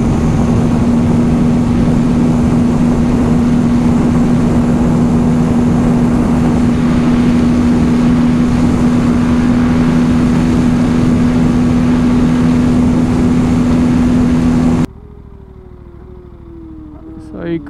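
An Aprilia RS 457 motorcycle engine running warm, a loud steady drone with a strong constant hum that cuts out abruptly near the end, leaving faint background and voices.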